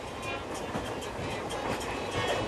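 Train running on rails in southern India, a steady loud rumble of wheels and carriage noise with faint clatter throughout, close and continuous.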